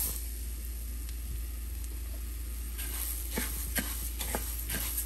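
Coriander seeds roast in hot oil in a pan: a soft, steady sizzle with a few sharp scraping clicks of stirring in the second half. Nobody speaks.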